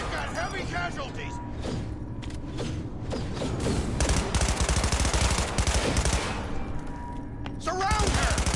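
Sustained automatic gunfire rattles through a Cyberpunk 2077 firefight, dense rapid bursts with mechanical clanks, loud and close, as voices shout over the shooting.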